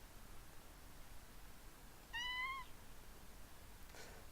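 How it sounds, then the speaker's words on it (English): A single short cat meow, faint and a little distant, rises out of a quiet background hiss with no talk around it. "So my cat is here."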